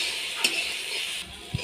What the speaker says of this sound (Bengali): এইভাবে নাড়াচাড়া করতে করতে ভেন্ডিটা ভেজে নেব